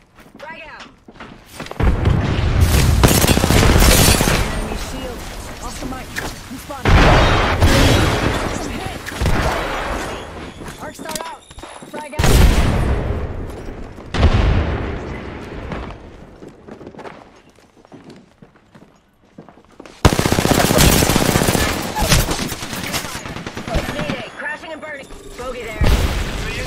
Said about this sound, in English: Toss some frag. Frag out.